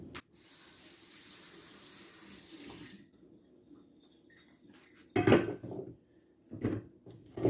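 Tap water runs into a sink for about three seconds while a colander is rinsed, then stops; a few clattering knocks and splashes follow as the colander is handled.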